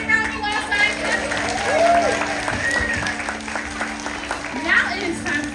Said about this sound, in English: Give yourselves a big round of applause, scientists.